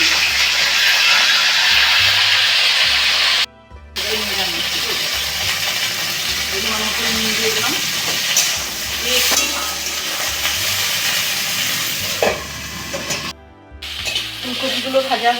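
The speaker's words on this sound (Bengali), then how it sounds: "এবার আমি ফুলকপিগুলো ভেজে নেব।" Cauliflower florets frying in hot oil as part of a mixed winter vegetable dish, a steady loud sizzle with stirring that runs almost throughout, cut by two brief silent gaps, with background music over it.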